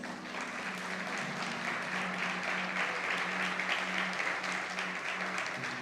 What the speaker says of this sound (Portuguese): Aplauda ao Senhor Jesus.